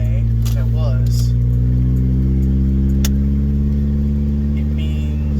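Four-cylinder truck engine droning at about 4,000 RPM on the highway, a loud steady rumble with constant low hum heard from inside the cab.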